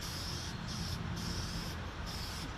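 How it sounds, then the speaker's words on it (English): Toner lacquer is sprayed onto a Zenith 5-S-29 radio cabinet in several short, hissing bursts with brief pauses between, fairly quiet and close, with no talking. "you can see I am spraying here in shade"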